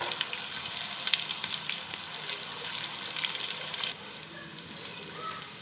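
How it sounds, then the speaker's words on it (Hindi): Garam masala spices with cloves, cumin, black pepper and black cardamom frying in a pan, a soft steady sizzle with light crackles that drops quieter near the end. "गरम मसालों को अब हम जो है थोड़ा सा फ्राई कर रहे हैं"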